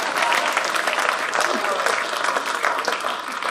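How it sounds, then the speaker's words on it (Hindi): Steady, dense applause from a live audience at a Hindi comic poetry gathering, a continuous wash of clapping that holds throughout without pause. "अब जोरदार ताली होनी चाहिए।"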